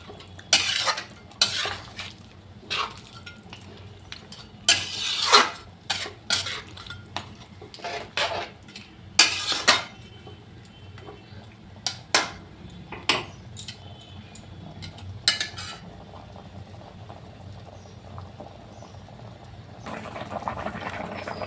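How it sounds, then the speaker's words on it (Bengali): Shol fish pieces going into boiling curry in a pot on a home stove, with repeated clinks and scrapes of utensils against metal and a soft bubbling simmer underneath, loud and close with no talk. "ঝোলটা বলক আসার পরে আমি মাছগুলো দিয়ে দিলাম।"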